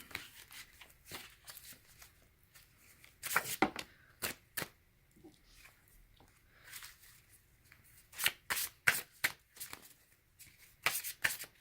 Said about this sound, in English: I'm going to reshuffle these really, really well.